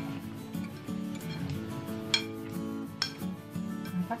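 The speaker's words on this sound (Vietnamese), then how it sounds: "Bây giờ mình sẽ dùng 2 chiếc đũa như vậy nè, mình sẽ trộn lên, mình trộn đều lên" Coconut sprout salad dressed with fish sauce is being tossed with two chopsticks. Soft rubbing and a couple of crisp clicks sit under a steady tonal background.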